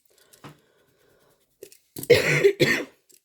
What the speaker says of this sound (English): I'm so sorry, all the coughing.